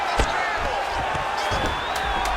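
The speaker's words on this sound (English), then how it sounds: "big pop from the crowd as they get back to their feet after a pretty scintillating grappling battle there on the ground" Crowd noise in a PS5 UFC fighting game, a broad arena roar and cheering that swells as the fighters rise from a ground grappling exchange, with thuds and bursts of louder whoops layered over the steady din.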